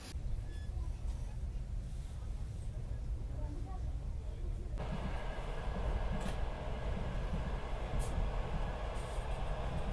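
A crowded passenger train carriage rolls along on the way to Ukhta in the Komi Republic, with a steady low rumble and clatter of wheels, sharp rail noises cutting in partway through, and a few faint voices in the background.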